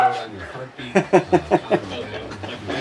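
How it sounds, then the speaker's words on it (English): A dog, excited at someone arriving home, lets out a quick run of about five loud, close barks in a steady rhythm, with a person talking and laughing around it. "Dogs barking."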